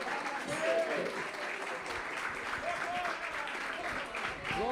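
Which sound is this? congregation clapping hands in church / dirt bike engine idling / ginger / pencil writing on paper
congregation clapping hands in church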